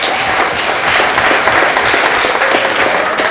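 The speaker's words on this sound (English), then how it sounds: "And give these wonderful teachers a round of applause." An audience at a Kwe Kwe Night school gathering claps for teachers, producing a loud, continuous roar of many hands with no speech over it.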